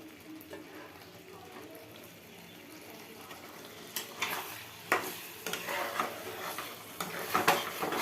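Meat is cooked and stirred in a pan: a soft sizzle is heard at first, then louder metal scrapes and clinks of a spoon working against the pan in uneven bursts.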